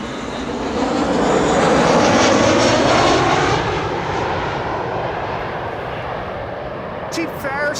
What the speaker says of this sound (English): Ryanair arriving from Dublin in Ireland, another spine shortener